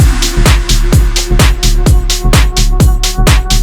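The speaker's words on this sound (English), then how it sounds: "I then have this reverb clap, which I use for all my transitions." Reverb-drenched clap sample used as a transition hit in an electronic track, repeating about every half second over a thumping beat and bright noisy tails, loud and dense with no voices.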